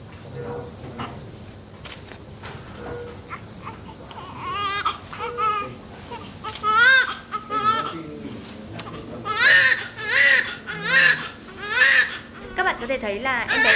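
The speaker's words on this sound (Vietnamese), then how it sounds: "việc em bé của chúng ta khóc to sau khi mà chào đời" A newborn baby cries loudly just after birth in a hospital delivery room. The sobbing wails start faintly and grow into strong, rhythmic bursts, with adult voices talking nearby.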